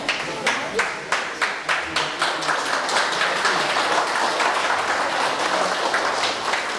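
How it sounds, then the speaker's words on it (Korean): A roomful of people clapping to celebrate a cake cutting at a staff retirement ceremony. It opens with a few distinct claps that swell into dense, sustained applause. "케이크 커팅에 전원 여기 계신 분 박수로 좀 축하해 주시기 바랍니다"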